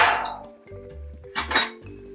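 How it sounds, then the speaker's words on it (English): A metal stove burner cover clangs twice in a home kitchen, with a sharp bright clatter at the start and another louder knock-and-rattle about a second and a half later, close by. "The sound that you hear is the burner cover for this"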